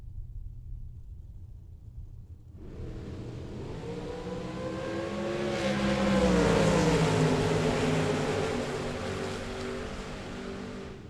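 A Mustang drag racing car launches at a bracket race in Las Vegas. A loud engine roar comes in abruptly, then climbs in pitch as the car accelerates, swells to a peak, and fades slightly as it pulls away.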